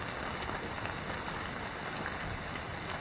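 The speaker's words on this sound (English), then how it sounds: "it's raining out" Steady, even hiss of rain falling outdoors, a constant soft wash of drops with no voices or other distinct sounds.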